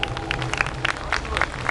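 An audience claps together at a Sai bhajan evening concert, a dense, lively burst of many hands with crisp individual claps standing out, close and loud without talk.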